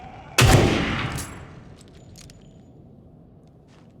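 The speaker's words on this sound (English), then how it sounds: "I have a sniper rifle. Let's try it out." A single sniper rifle shot in The Evil Within 2 cracks loud and close, then rings out in a long fading tail that settles into quiet game ambience.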